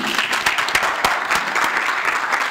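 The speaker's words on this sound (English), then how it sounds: "Round of applause, please" Audience applause at a live masterclass panel event, a steady dense wash of many hands clapping, fairly loud and continuous with no voices over it.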